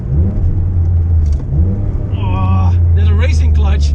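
A Porsche GT3 RS with a racing clutch launches from a standstill, its engine droning loud and low before climbing into a rising rev, with a person talking over the sound.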